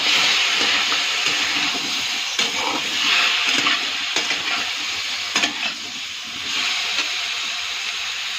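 Chopped vegetables sizzle steadily in a hot pan while being stirred, a loud continuous frying hiss with scraping bursts throughout and no voices.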